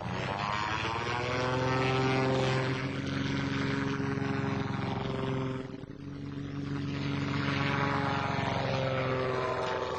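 The Wright brothers' propeller-driven Flyer airplane drones with a steady engine and propeller hum that dips briefly near the middle and then swells again, moderately loud and without voices.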